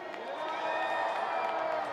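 A rodeo crowd cheers and whoops for a cowboy from Scone, New South Wales, a dense, steady roar of voices and clapping with faint talk mixed in.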